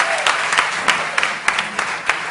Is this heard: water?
no